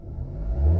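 Brief, fairly loud low rev of a Mahindra XUV700 SUV engine, the rumble swelling toward the end of the short burst with no voices.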